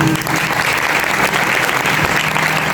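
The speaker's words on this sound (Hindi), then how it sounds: "आपने कन्हैया के स्वागत में ताली भी नहीं बजाई।" A crowd claps continuously at a Ganesh Chaturthi religious gathering, a dense, loud burst of applause filling the whole moment.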